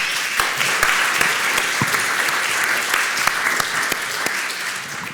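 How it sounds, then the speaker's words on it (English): An audience at a student maths society session applauds steadily for about five seconds, a moderately loud spread of individual claps forming a continuous patter with a few sharper hand strikes standing out. "Give yourselves a round of applause."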